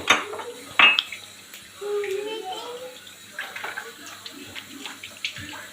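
Clinking dishes and splashing water in a sink, with a sharp clatter near the start followed by softer rinsing and scattered knocks.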